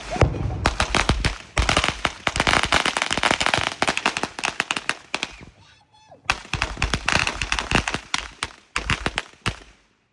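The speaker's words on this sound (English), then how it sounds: "Next to where the fireworks are going." Fireworks and firecrackers going off outdoors at a Fourth of July celebration, a dense run of loud, rapid crackling bangs with a short lull before more bursts, while people shout nearby.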